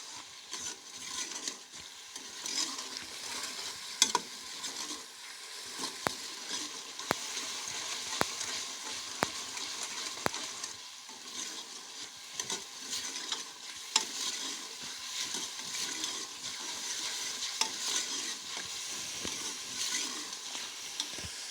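Curry masala for egg and potato curry frying in a pan, a faint continuous sizzle with frequent sharp spatula clicks and scrapes throughout, no voices.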